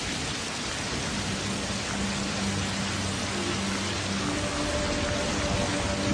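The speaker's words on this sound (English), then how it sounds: "It's starting to rain." Rain falls in California as a steady, even hiss of drops on surfaces, moderately loud and unbroken throughout, with faint low tones underneath and no talking.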